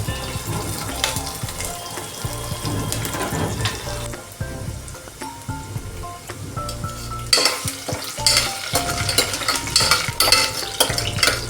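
Garlic, green chili and curry leaves fry in a pan with a continuous sizzle under repeated scraping stirs, louder and busier toward the end, with no one speaking.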